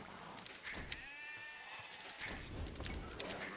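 Sheep bleating in the video game Age of Empires II, a single wavering call of moderate loudness standing out over a low game background bustle.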